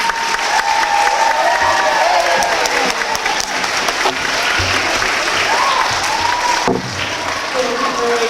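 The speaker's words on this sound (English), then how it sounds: "Kristen Tucker, Nadra Noble, Makai Robinson, let's have a nice round of applause for 201" A room full of people applauding at a school academic awards ceremony, loud and continuous throughout, with scattered voices and cheers mixed into the clapping.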